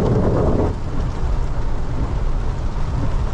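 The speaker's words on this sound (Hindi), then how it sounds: "तो काफ़ी अच्छी बारिश हुई यार।" Heavy rain pours during a storm on a village road, heard from a Bolero SUV as a dense, steady hiss and rumble that stays loud and continuous without any voices.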